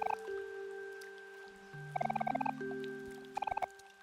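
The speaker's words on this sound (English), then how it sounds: "The sound of falling rain as it hit your umbrella." Pattering rain on an umbrella with bursts of drops in the video game Omori, over steady synthetic game music tones and a low droning hum.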